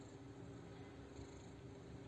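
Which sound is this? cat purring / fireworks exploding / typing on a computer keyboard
cat purring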